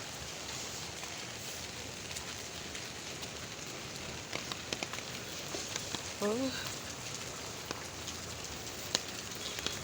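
Rain from Typhoon Krising pours steadily onto a soaked road at night, a continuous even hiss with scattered drips, and a voice cuts in briefly.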